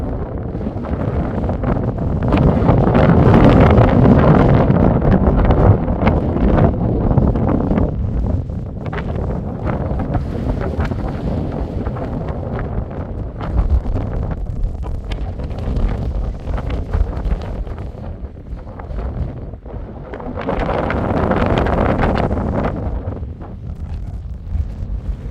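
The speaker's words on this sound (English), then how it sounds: "Yeah, it's pretty windy today." Strong gusts roar against the microphone outdoors on a ranch, in surging waves, loud and buffeting, rising and easing over the whole stretch with no talking.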